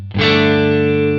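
A single clean electric guitar chord rings out through a Lone Star amp sound into a 2x12 cabinet on a Quad Cortex, sustaining smoothly with a light reverb tail and no talking.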